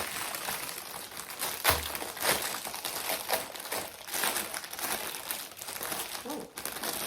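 Plastic wrapping on a gingerbread house kit crinkles and rustles loudly and close up, steady and continuous, with a few sharper crackles as the packaging is torn open.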